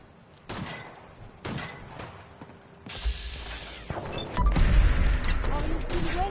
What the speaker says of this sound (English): We are being shot at.